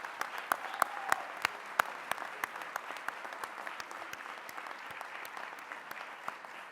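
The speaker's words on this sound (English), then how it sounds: "Give them a round of applause." A university convocation crowd applauds faculty and administration, a broad wash of clapping with sharp individual claps standing out near the front, steady for several seconds and slowly thinning toward the end.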